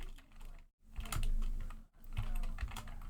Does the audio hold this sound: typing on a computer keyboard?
yes